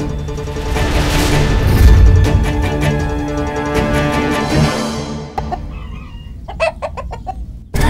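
Chickens cluck and squawk loudly up close while being chased and caught, flapping and scrambling at first, then sharper isolated clucks as the commotion quiets.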